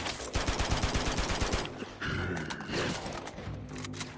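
Rapid gunfire from the Uncharted 2 video game, dense bursts of shots in an enclosed area, loud and close, then a brief pause before more firing resumes.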